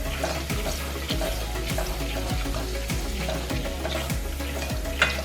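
Butter and garlic sizzle in a pan, a close, steady frying hiss punctuated by rhythmic thumps and scrapes of stirring about once a second.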